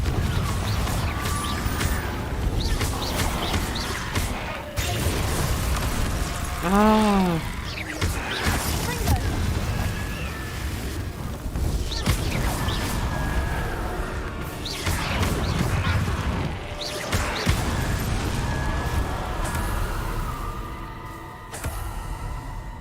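Confringo spell explosions in the Hogwarts Legacy video game come as repeated booming blasts and crashes inside a dense, continuous wash of game sound, with a voice briefly audible.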